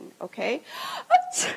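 A presenter performs a sneeze in front of a seminar audience, a short breathy intake followed by a sharp sneeze burst, close and loud, set among brief bits of the presenter's speech.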